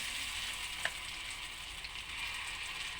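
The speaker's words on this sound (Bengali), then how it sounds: "এবার আমি এক এক করে ফুলুরিগুলো ভেজে নেব।" Fuluri fritters frying in hot oil, giving a soft, steady bubbling sizzle with one small crackle.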